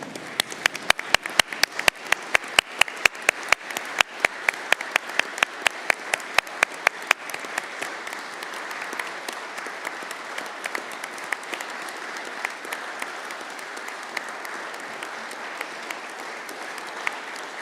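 A council chamber full of people, standing, applauds for a long stretch in tribute to a former councillor, with loud, distinct claps early that blend into sustained, steady clapping.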